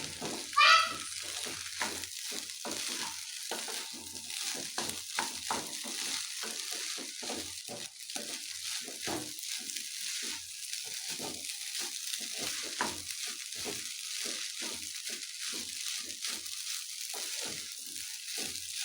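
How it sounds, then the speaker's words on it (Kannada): Paneer fried rice with coriander leaves being stirred in a pan, a steady close sizzle and frying hiss with repeated scraping and stirring strokes throughout, no talking. "ಕೊತ್ತಂಬರಿ ಸೊಪ್ಪು ಹಾಕಿ ಒಂದ್ಸಲ ನೀಟಾಗಿ ಕಲಸ್ಕೊಂಬಿಡಿ"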